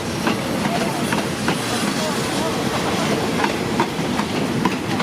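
A long, empty train rolls past at Bang Sue in Thailand, a loud, steady rumble and rush with faint rhythmic clickety-clack of the wheels, heard close and continuous throughout.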